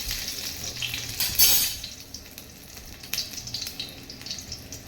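Garlic and other ingredients dropped one by one into hot oil in a pan on the stove, sizzling and frying with clinks and stirring, with a few sharper bursts; no voices.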